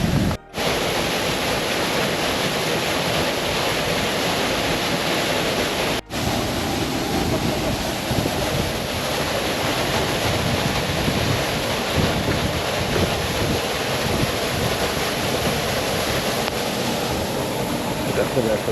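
A waterfall at a coastal beauty spot gives a loud, continuous roar of falling water that stays broad and even, with no talking.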